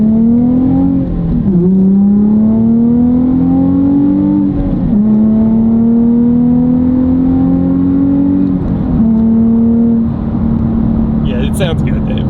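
A Nissan 350Z with an aftermarket exhaust accelerates hard through the gears, the engine note climbing steadily and dropping at each of three shifts, loud and close, with a voice over the end.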